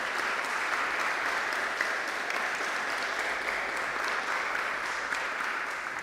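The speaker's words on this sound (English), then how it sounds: "Big round of applause" An audience at a panel event gives a big round of applause, steady and sustained clapping from many hands throughout.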